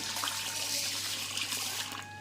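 Steady trickling water runs continuously as it is poured onto rice in a container for soaking, with a faint background hum.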